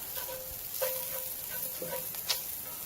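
Onions sizzle in a hot cast iron pan on a grill, a steady close hiss with a few light scraping and clinking touches over three seconds.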